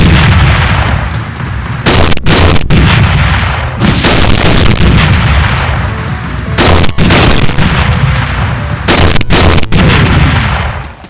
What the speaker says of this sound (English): as the beginning of the boss itself, if it will demonstrate rockets